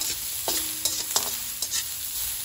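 Ginger frying in a pan until it browns, a close sizzle broken by several quick stirring scrapes and clinks in an irregular rhythm.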